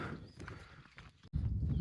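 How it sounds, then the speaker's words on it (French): Big draft horses plod along a hiking trail, their hooves clopping in a loose, uneven rhythm at moderate distance, with a short gap near the end before the steps continue. "C'est des gros chevaux de trait"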